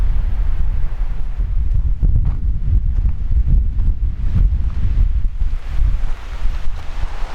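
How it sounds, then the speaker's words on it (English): Strong wind buffets the microphone on an exposed trail beside a towering rock formation, a continuous loud low roar with gusty surges and no voices. "And it is very windy"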